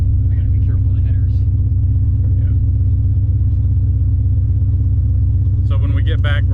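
A 1969 Plymouth with a swapped engine rumbles steadily while driving, a loud, deep, even drone heard from inside the car, with brief speech near the end.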